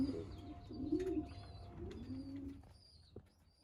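Racing pigeons coo nearby in soft, throaty rolling phrases, repeated a few times, with faint chirps in the background.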